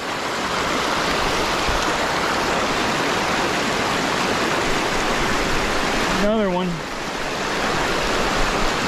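A waterfall by a river where smallmouth bass are being fished, producing a constant, loud rushing hiss throughout, with a brief spoken voice near the end.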